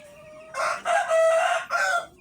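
A Rhode Island Red rooster crows loudly and close by, a full cock-a-doodle-doo with several broken, strained segments, standing alone over faint background.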